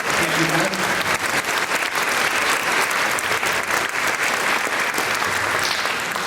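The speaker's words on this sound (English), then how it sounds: "I'd like to give you a round of applause and everybody else too" Enthusiastic applause from a high school band concert audience, loud and continuous clapping filling the room, with a few voices briefly audible underneath at the start.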